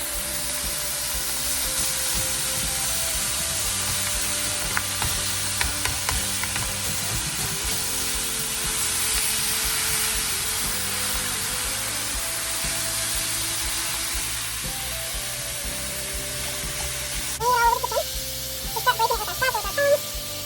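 Ground meat for a keto Philly cheesesteak casserole sizzling steadily in a pan while being broken up with a spatula and tongs, with occasional scraping and clinks near the end.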